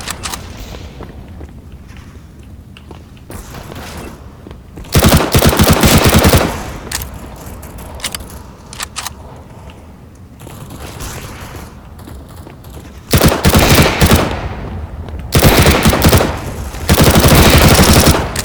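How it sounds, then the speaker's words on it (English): Counter-Strike: Global Offensive gunfire, with loud automatic bursts of several seconds alternating with scattered single shots, mechanical clicks and quieter game ambience in between. "Very good shooting."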